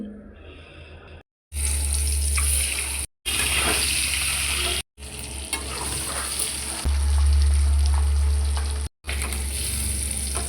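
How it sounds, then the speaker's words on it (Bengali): Boiled eggs frying one by one in a little oil in a wok, a steady close sizzle with bursts of spattering, broken by a few brief silent cuts. "কড়াতে সামান্য তেল দিয়ে এক এক করে সবগুলো ডিম ভেজে নিচ্ছি"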